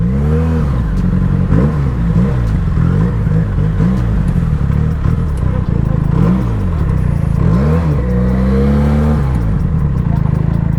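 A Benelli 302S motorcycle accelerates hard in second gear through traffic, its engine note rising and falling in repeated sweeping revs, loud and close throughout.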